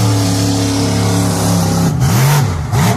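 The Bigfoot monster truck's engine roars loud and close at Donington Park in a sustained, heavy rev that rises and dips in pitch near the end as the truck launches.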